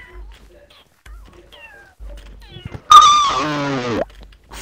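A person imitating a cat, giving a loud, drawn-out wailing meow that rises and then falls, following quieter speech-like sounds earlier.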